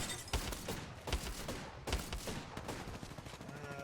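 Apex Legends gunfire crackles in repeated sharp bursts of rapid shots, some overlapping and others spaced apart, with faint background game noise.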